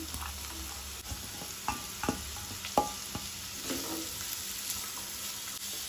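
Onion and green chillies fry in a pan for Goan dry prawn kismoor, a close, steady sizzle broken by a spoon's scraping stirs and a few sharp clinks against the pan.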